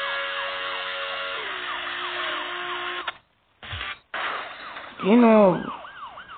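An electronic wailing siren from the video game Moto Speed Traffic cycles repeatedly, cuts out briefly, then returns with a rising sweep; a voice speaks briefly in between.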